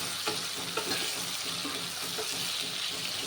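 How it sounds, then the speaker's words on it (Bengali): Three large onions fry in a pan as the first step of cooking meat for biryani, giving a steady close sizzle with a few soft stirring taps and no voices. "একটু ভালো করে ভেজে নেব পেঁয়াজগুলো।"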